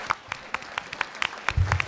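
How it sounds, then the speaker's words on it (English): Light, scattered clapping from a small fan convention audience, individual claps distinct and irregular, with a brief louder rustle near the end. "Give a round of applause"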